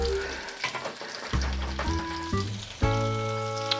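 Homemade gnocchi fry in butter in a pan, a steady close sizzle with bursts of stirring and clatter from the pan, under occasional tonal hums.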